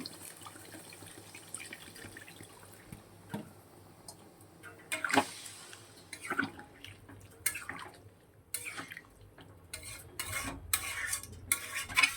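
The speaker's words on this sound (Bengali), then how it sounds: "এবার জল দিয়ে দিচ্ছি।" Water goes into cooked chicken in a pan and is stirred, giving soft splashing, scraping and dripping sounds with intermittent louder stirs, close and fairly quiet, with no talking.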